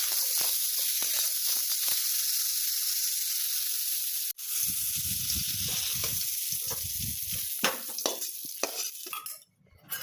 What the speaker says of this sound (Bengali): মাছ ভাজা হয়ে গেলে বড়ি আর শিম সেগুলো একে একে ভেজে নিতে হবে আলাদা আলাদা করে